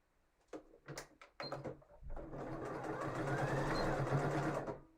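A domestic sewing machine stitches fabric in a few short bursts, then runs in a steady, fairly loud continuous whir close by during a live sew-along session.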